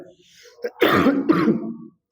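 Two rough, throaty coughs in quick succession, close and fairly loud, following a faint breathy sound, with no talking.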